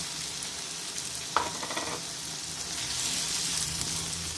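Onions sauté in a pan for homemade egg parotta, a soft, even sizzle with one sharp scrape or tap near the middle, close but fairly quiet, with no voices.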